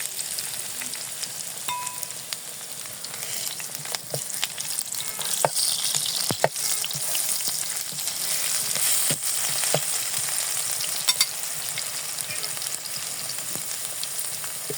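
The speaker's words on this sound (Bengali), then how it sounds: "আলু 3টে লম্বা লম্বা করে কেটে ভেজে নিব।" Long potato strips for a Bengali fish curry sizzle steadily in hot oil, an unbroken frying hiss with occasional pops and light stirring clicks throughout, no voices.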